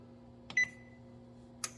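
Control panel on an oven being set to a cook time for kale chips, giving one short, clear electronic beep and a faint later key tap over a low, steady appliance hum in a quiet kitchen.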